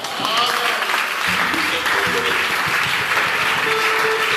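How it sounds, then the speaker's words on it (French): A loud crowd applauding and cheering at a religious gathering, with dense steady clapping and some voices mixed in throughout. "Encore des acclamations et des acclamations."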